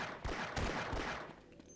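Sniper fire in the shooter game Half-Life Black Mesa: a few sharp shots crack close together, each one loud and booming against a busy battle background, with no talk.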